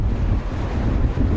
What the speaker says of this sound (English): 30-foot waves battered Britain's coast, heralding yet another severe storm